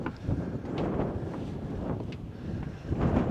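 Strong wind at the summit of Mount Diablo buffeting the microphone in heavy, rumbling gusts, continuous and close, with no voices.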